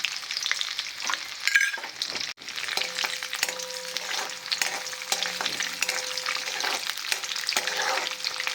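Urad dal, chana dal and fenugreek seeds fry in hot oil for a tempering with red chillies, a steady close sizzle with stirring scrapes throughout.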